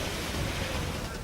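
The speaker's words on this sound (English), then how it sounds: "You can actually hear the waves coming over the roof of the home." Hurricane Katrina storm surge waves wash over a house roof on the flooded Gulf Coast, heard as a broad, faint, continuous rush of water and wind.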